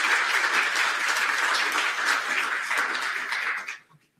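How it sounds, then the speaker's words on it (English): A room full of people at a public gathering for volunteers breaks into sustained, dense applause that holds steady and loud, then cuts off sharply at the end. "big round of applause to all the volunteers in this room"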